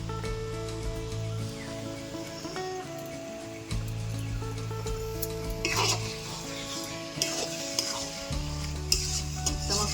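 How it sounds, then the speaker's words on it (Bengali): Malabar spinach (pui shak) cooks into a ghonto with fish head in a pan, giving a soft continuous sizzle broken by scraping stirs and occasional light clinks of a utensil against the pan, with no talking. "ঢাকা দিয়ে দিয়ে ভালো করে পুঁই শাকটা রান্না করে নিচ্ছি"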